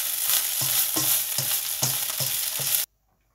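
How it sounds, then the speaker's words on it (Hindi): Koftas frying in a pan for fried rice: a loud, steady sizzle with regular rhythmic scraping strokes of stirring, then an abrupt cut to silence. "तकरीबन 3-4 मिनट में ऐसे ही इनको फ्राई करूँगा"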